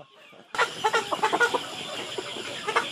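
Chickens on a small poultry farm in the Philippines cluck and squawk as they are caught for shipment, with a burst of agitated calls starting suddenly and continuing close by in irregular bursts.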